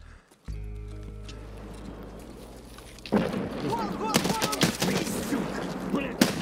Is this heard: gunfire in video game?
yes